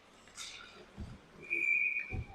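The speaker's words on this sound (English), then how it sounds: "And a whistle." A referee's whistle gives a short, steady shrill blast at a 15U youth ice hockey game, heard at a distance over rink noise and thuds of play.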